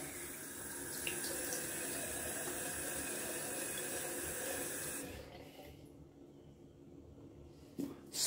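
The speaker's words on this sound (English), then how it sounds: "Gonna add some cold water to the face." A bathroom tap runs steadily as cold water is splashed onto a freshly shaved face, a soft continuous hiss that stops midway, followed by a few faint wet splashes.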